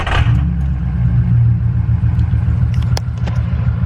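A Ford 6.0 Powerstroke diesel pickup truck, just after a fuel filter and oil change, cranks and fires up with a sharp start, then settles into a steady, loud, deep diesel rumble close by.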